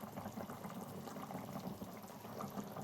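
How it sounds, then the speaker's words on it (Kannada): Soaked rice tipped into a pot of boiling water for Mysore mutton pulao, a faint, soft continuous bubbling and watery rustle close by, with no voices. "ಅಕ್ಕಿ ಹಾಕ್ತಾಯಿದ್ದೀನಿ"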